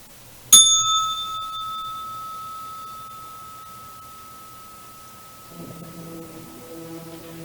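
A single bright bell strike rings out loud and clear, its metallic tone sustaining and slowly decaying over several seconds before a soft, low musical bed fades in underneath.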